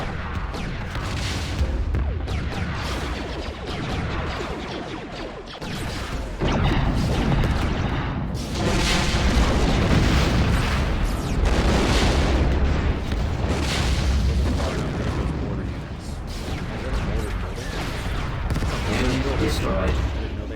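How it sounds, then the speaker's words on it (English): Bombing-run explosions and heavy booms from a Star Wars Empire at War battle against mortar units, with dense rumbling blasts and artillery-like fire rolling continuously and loudly throughout, briefly dipping midway before resuming. "maybe a bombing run can do some good"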